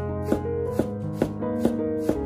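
A kitchen knife chops eggplant into small pieces on a cutting board, five evenly spaced sharp knocks in a steady rhythm over a constant tonal hum.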